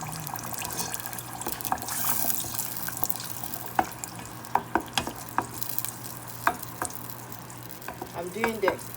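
Garlic sauce simmers and sizzles in a pan, with sharp spoon scrapes and clinks at irregular intervals over a steady bubbling hiss, close and moderately loud.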